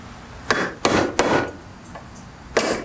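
A screwdriver with a socket on its end is struck with a hammer to drive out a bearing race on a budget car build: three quick, loud metallic blows, a pause, then a fourth strike, all close.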